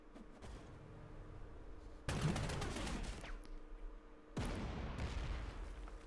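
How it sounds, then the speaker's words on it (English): Artillery pounding in the Panzer Corps 2 strategy game, Spanish Civil War setting: a low rumble of distant fire broken by two loud, sharp salvos that burst in and decay into rolling echoes, with no voices. "Just the artillery pounding away."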